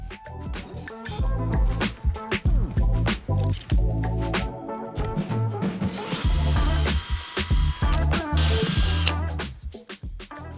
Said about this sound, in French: on va percer 2 trous de 4 mm pour nos tiges filetées